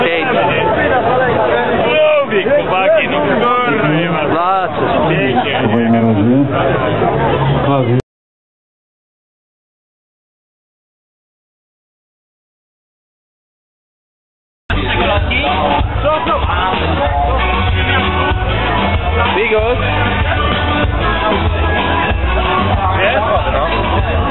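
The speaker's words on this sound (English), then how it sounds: "A lot of people here, pretty fair crowd." Loud party crowd babble during a band tour in Poland, with overlapping chatter and occasional shouts, cut by a stretch of silence before the dense hubbub returns.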